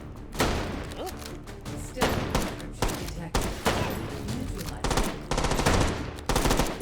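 Gunfire in the VR shooter H3VR, a series of sharp loud shots and rapid bursts in irregular clusters, close and punchy, with speech faintly present.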